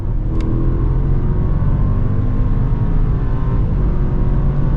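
A 2026 Bentley Bentayga Mulliner V8 pulls hard on the Autobahn, its engine note a loud, steady, sustained roar from inside the cabin with no gaps or letup.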